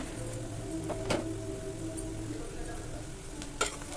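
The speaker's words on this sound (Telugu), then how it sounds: "ఇదంతా చక్కగా ఫ్రై అవనింది ఈ ఉల్లిపాయ ముక్కలు ఫ్రై అయినాక" Onion pieces fry quietly in a pan with turmeric and curry leaves for a country-chicken curry, a soft steady sizzle broken by a few sharp clicks of stirring.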